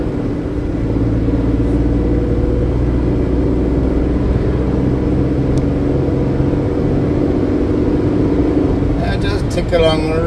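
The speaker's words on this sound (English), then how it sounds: "But you do get that slight tractor sound of the engine" A car engine at cruising speed with a slightly rough, tractor-like note, a steady loud drone and road rumble throughout, with a faint click near the end and no talk.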